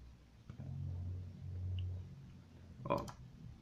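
A brief cluster of sharp computer mouse clicks near the end, faint against a quiet low hum.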